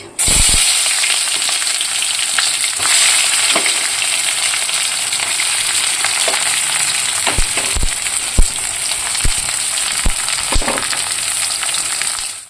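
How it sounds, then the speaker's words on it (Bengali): Onions, bay leaves and whole garam masala frying in hot oil for a chicken dish, a loud continuous close sizzle with occasional sharp spoon clicks and stirring scrapes, no talking. "তেল গরম হয়ে গেছে দিয়ে দিলাম তেজপাতা গোটা গরম মশলা এবার দিয়ে দেব পেঁয়াজ"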